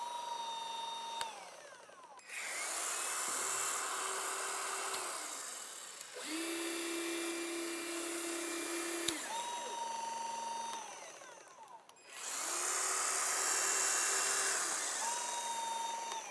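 A Milwaukee M12 nibbler and other power tools run in turns: three loud, sustained whining bursts with rising and falling pitch, separated by brief pauses and sharp start-stop transitions.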